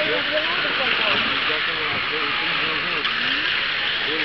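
17.5 late model RC cars race around an indoor hobby track, their electric motors whining in rising and falling tones as they pass, under a continuous race commentator's voice.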